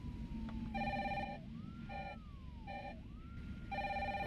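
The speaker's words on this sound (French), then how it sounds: "si on laisse le téléphone sonner dans son appartement" Telephone ringing inside an apartment in the video game Resident Evil 3 Remake: repeated bursts of an electronic ring, fairly quiet over a steady background hum, with a gliding tone between rings.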